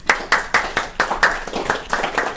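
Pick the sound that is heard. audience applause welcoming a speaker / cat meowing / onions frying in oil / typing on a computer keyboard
audience applause welcoming a speaker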